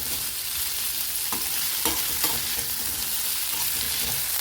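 Hand-rolled Libir Libir pasta and vegetables flash-fry on high heat. A steady, loud sizzle continues throughout, and a few utensil stirs knock against the pan.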